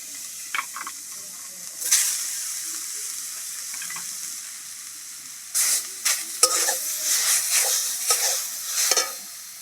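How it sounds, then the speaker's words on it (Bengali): Grated coconut stirred and fried in a pan on the stove for a Bengali patisapta filling, with scattered scraping stirs early on and busier bursts of sizzling and spatula strokes later, close and fairly loud with no talking. "এবার আমি দিয়ে দেবো নারকেল কুড়োটা"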